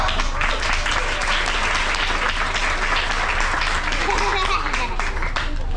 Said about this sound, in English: A big round of applause for ma'am.